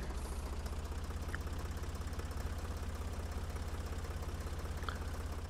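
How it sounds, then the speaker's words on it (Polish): Tractor engine idling in the video game Farming Simulator 2014, a steady low rumble with a fast regular pulse throughout, close and constant. "Traktorku jedź, jedź."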